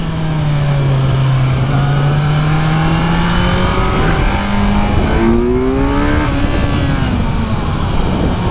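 A 2017 Kawasaki Z900 motorcycle engine pulling a power wheelie downhill, loud and close, its pitch climbing steadily through the revs before a brief shift and another rise, under heavy wind rush.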